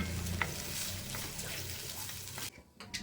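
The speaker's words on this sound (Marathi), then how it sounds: "कांदा आणि खोबरं व्यवस्थित भाजून घेतलं।" Onion and fresh grated coconut roast in hot oil for a Maharashtrian masoor usal masala, giving a steady close sizzle with stirring scrapes that thin out near the end.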